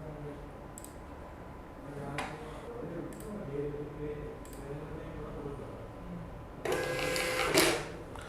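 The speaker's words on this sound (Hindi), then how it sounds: "इसको क्लोज कर देते हैं और हमने एक बिल प्रिंट आउट कर देता है।" A receipt printer runs off a bill from POS billing software, giving a short buzzing burst of printing near the end after quiet clicks and faint background noise.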